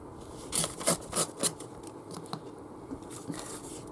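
Blade slicing paper strips along the tapered edge of a ruler, a quick run of four close, crisp scraping cuts followed by softer, fainter rustles.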